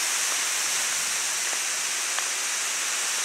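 A garden hose sprays water steadily onto the surface of an outdoor backyard ice rink, a continuous, even, fairly loud rushing hiss with no pauses or voices.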